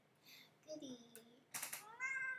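A house cat meows in a few short, rising and falling calls, close and fairly clear, with a voice speaking around them.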